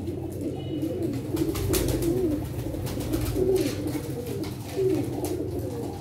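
Teddy pigeons coo continuously at close range, repeated throaty rolling calls over a steady low background noise, with no talk.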